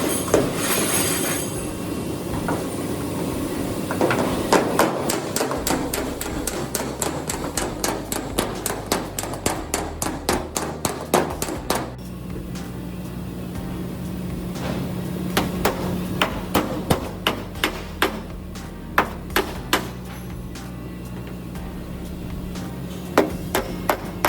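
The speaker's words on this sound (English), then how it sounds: "It's been a while since I've used this hammer, but you can see what I'm doing." Rapid metallic hammer blows ring out as a Chevrolet Impala body panel is beaten, in quick bursts, then slower, evenly spaced strikes, loud and close, with no talking.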